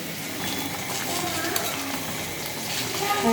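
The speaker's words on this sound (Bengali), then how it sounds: "তো আমি ভাজা মাছগুলা দিয়ে দিচ্ছি" Fried rohu fish pieces go into a bubbling potato curry, giving a steady, close sizzle and frying hiss with faint stirring, with no talk.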